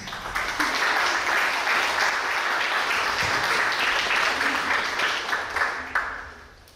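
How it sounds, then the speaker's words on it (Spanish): An audience at a Peruvian book launch for a music publication bursts into loud, sustained applause that holds steady for several seconds before tapering off, with no talking over it. "Lo recibimos con fuertes aplausos"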